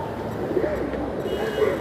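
Young pigeons give soft, low coos inside a pigeon loft in Santacruz East, Mumbai, with a couple of brief coos over a murmuring background of rustle and faint voices.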